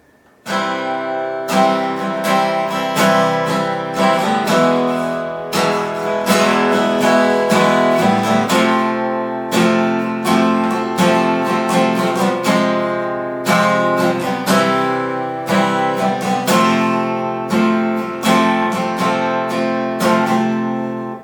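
Guitar chords played in partial moveable shapes form the chorus of a song, strummed steadily and loud with a sustained ringing tone, no voices.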